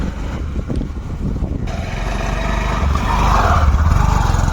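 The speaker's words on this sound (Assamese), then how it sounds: "আজি আৰ পুৰা নদীত একদম ফুল স্পিডত তাৰমানে চলাম বাইকখন।" A motorbike engine runs steadily as the bike is ridden at full speed through a river, a loud continuous drone that rises slightly toward the end, with splashing hiss mixed in.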